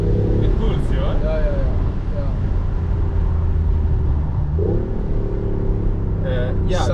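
Synthetic car engine sound piped through a car's cabin speakers while driving in Potsdam, a steady low droning hum with a rising pitch sweep near the end, heard continuously under the cabin noise.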